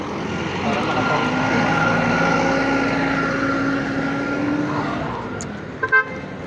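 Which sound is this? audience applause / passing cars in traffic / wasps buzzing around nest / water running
passing cars in traffic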